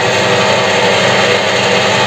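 A WEISAN CJM360 metal lathe running at 600 rpm gives a steady, dense mechanical whir with an even hum, loud and close throughout with no breaks.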